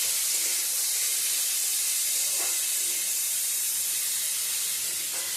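Drained squash sizzles loudly in a hot pan, a steady, close, continuous hiss of frying with faint stirring clatter and no voices.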